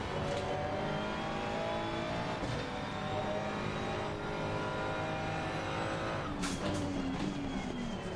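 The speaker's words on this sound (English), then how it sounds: "You can hear the blow off valve or the wastegate. You can hear the turbo spool." Ferrari 296 GT3 race car in Assetto Corsa Competizione at Valencia, its engine droning steadily with shifting harmonic tones, turbo whine rising and falling, and a sharp burst near the end as the blow-off valve releases on deceleration.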